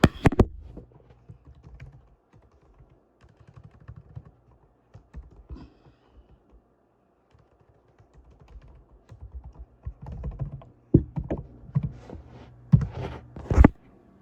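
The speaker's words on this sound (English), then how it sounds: "I'm gonna go ahead and enter in my password" A password is typed on the keyboard of an HP Chromebook 14 (2020) laptop: light, close key clicks in sparse bursts, then a quicker flurry of sharper taps near the end, with no voices.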